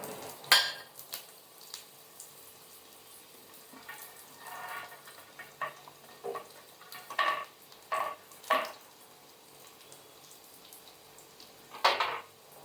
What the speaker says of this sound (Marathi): चला आता आपण याच्यात कांदे आणि हिरवी मिरची टाकूया.